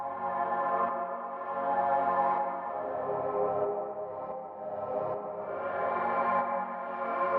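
A sustained, harmonically rich synth pad, sidechained heavily to a kick for motion, swells and recedes in slow waves, washed in reverb and playing alone.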